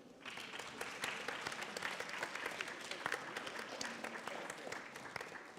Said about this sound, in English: That deserves a very big applause.